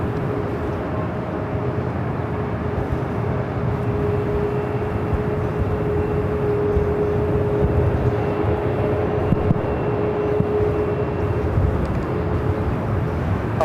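A jet airliner at Los Angeles LAX airport gives a steady, broad roar with a faint sustained whine, heard from a distance and holding level throughout.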